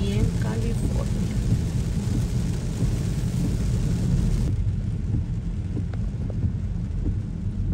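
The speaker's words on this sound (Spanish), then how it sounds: "nuestro segundo día de lluvia aquí en California." Steady heavy rain hisses and patters on streets during a California storm, with a low rumble of thunder rolling beneath it throughout, and faint voices are barely audible.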